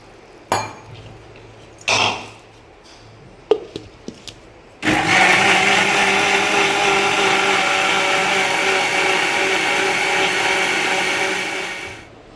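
A kitchen mixer grinder whirs loudly and steadily for about seven seconds as it blends cucumber chutney with onions, salt and water, after a few short knocks and clatters of the jar.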